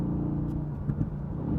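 A Mercedes-AMG GT S, 510 horsepower, rumbles at a racetrack, a steady low engine drone with a couple of brief surges, moderately loud and heard without speech.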